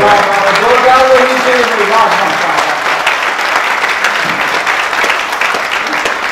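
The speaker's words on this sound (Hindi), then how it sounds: "हनुमंतप्पा के लिए ये तालियां कम हो" A crowd at a Rajasthani comic poetry gathering breaks into sustained, loud applause, with the performer's voice briefly audible over the clapping at the start before the clapping continues alone.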